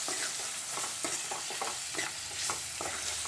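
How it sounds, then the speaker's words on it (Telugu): Ginger and turmeric frying in a pan for a tomato moong dal curry, stirred with quick scraping strokes over a constant close sizzle, no voices. "అల్లం, పసుపు వేసి కలుపుకున్నాను."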